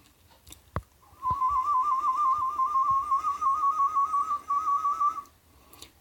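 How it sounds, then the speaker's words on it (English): A single warbling tooth whistle, a steady wavering tone with a fast regular pitch wobble, sustained for about four seconds with one brief break near the end, preceded by a few soft clicks and breaths. "The second one is, I think it's called warbling"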